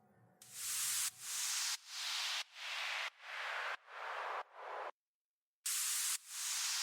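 Steady white noise hiss pulses in a regular rhythm, ducking sharply and swelling back repeatedly, with one longer silent gap near the end.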